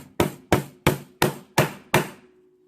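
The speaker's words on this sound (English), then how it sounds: "and just hammering it home" Six sharp, evenly spaced hammer blows drive brad upholstery tacks into wooden trim on a 1931 Ford Model A front seat, each strike close and crisp with a short ring-off.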